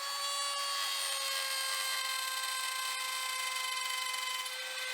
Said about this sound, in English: I'm removing most of the material with a router.